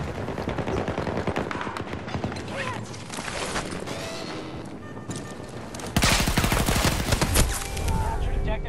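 Battlefield 2042 combat brings dense bursts of rapid automatic gunfire and overlapping shots, loud and continuous, with a sharper burst near the end and a little voice underneath.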